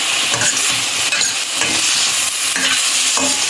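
Tomatoes for Bombay chutney stirred and sautéed in a pan, a constant close sizzle broken by repeated rhythmic scraping strokes of the spoon.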